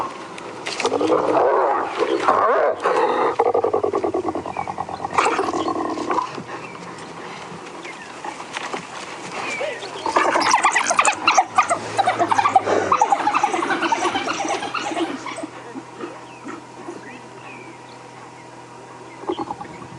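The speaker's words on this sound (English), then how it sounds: "Listen to the hyena." Hyenas call out in the African bush during a sunrise safari drive, the whoops and yelps coming in loud, uneven bursts with quieter gaps, mixed with outdoor rustle and some vehicle noise.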